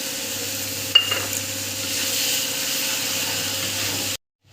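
Mustard paste cooked with onion, tomato, salt, chili and turmeric simmers in a pan, a steady close hiss of bubbling with one small knock early on, cutting off abruptly near the end.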